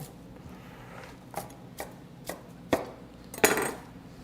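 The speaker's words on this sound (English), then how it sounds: "We're going to add our cilantro, which we're going to chop up a little bit." Fresh cilantro is chopped with a knife on a board in a few separate, crisp taps that grow a little louder, spaced irregularly in a quiet kitchen.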